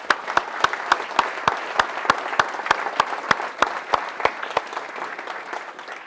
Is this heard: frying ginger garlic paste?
no